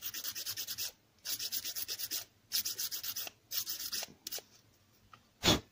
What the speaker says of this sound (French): Petit coup de ponçage en dessous pour aplanir.